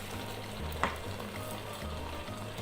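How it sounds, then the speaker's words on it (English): Chicken sizzling and frying in an electric pressure cooker pot, a steady crackling hiss with a brief stir or clatter partway through, close up. "So I can see my food is frying nicely."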